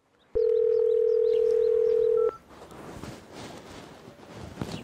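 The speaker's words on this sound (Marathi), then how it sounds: "आला आला, तिचाच फोन असेल" A phone sounds with a steady electronic tone that holds for about two seconds over faint chirping, then stops, leaving quiet room ambience in an indoor scene.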